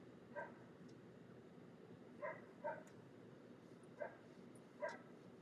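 Several dogs bark in the distance, four or five short separate yips and woofs spread out over a few seconds, faint beneath a steady background murmur of a late-night home gathering.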